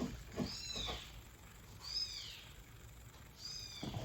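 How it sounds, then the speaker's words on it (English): Three high, drawn-out kitten meows spaced a second or so apart, fairly faint against a quiet room background. "you guys can hear the kittens in the background"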